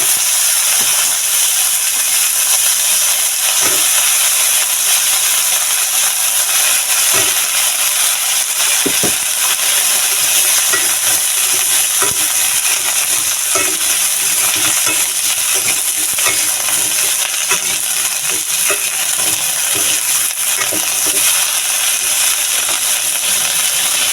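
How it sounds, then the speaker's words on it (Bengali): Cauliflower and potatoes fry in hot oil with a loud, continuous sizzling hiss, broken by scattered clicks and knocks of stirring throughout. "ফুলকপি আলুগুলো একটু ভালো করে ধুয়ে পরিষ্কার করে নিয়েছি, আর এবার এগুলো তেলে দিয়ে দেব।"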